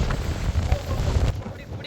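Strong, cold wind in Sharjah, UAE, buffets the microphone as a loud, steady roar with gusty low rumbling. It drops away abruptly near the end.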